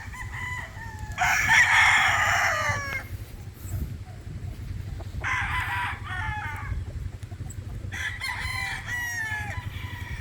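A young rooster (stag) tethered outdoors crows three times, each a loud, drawn-out call with pauses between, against a steady low background hum.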